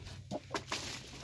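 Backyard chickens give a few scattered clucks and short squawky calls at a moderate distance, quiet and irregular against outdoor background noise, with no one speaking.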